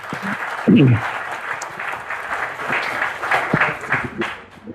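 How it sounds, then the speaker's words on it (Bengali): An audience at a Dhaka University gathering applauds after a speech. Loud clapping swells early and then continues as a dense, steady patter, with voices speaking over it. "একটা জোরে হাততালি হবে"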